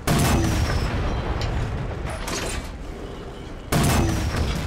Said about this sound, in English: the main boom sound coming from the eventual impact of the shell and the metal clang of the ejector port loading up the next round